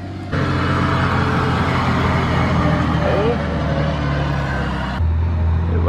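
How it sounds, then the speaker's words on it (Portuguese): A truck loaded with timber rolls past on a road in a logging region, a loud continuous engine and tire roar that holds steady for several seconds before dropping off abruptly. "E aqui ainda passa muito caminhão com madeira ainda"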